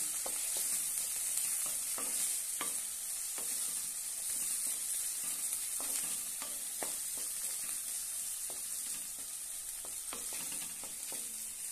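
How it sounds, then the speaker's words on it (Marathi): Sweet corn poha base with turmeric and salt sautéing in a hot pan, a steady close sizzle and hiss broken by scattered clinks and scrapes of stirring. "चवीनुसार मीठ आणि छानपैकी परतून घेऊया।"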